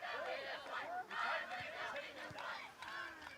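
Irish cheering section of the crowd at a boys' varsity high school soccer game against Quincy Notre Dame, a distant mass of shouting and chanting voices rising and falling in rough bursts.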